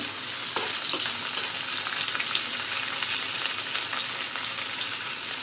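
Steady sizzling of something frying in hot oil, with faint stirring scrapes, before lentils are added to make dal for a simple home meal; close and continuous, with no voices.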